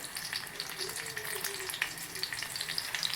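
Chopped onion frying in hot oil in a pan, a steady sizzle filling the upper range throughout, close and moderately loud, with no voices.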